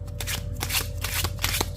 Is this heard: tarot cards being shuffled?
yes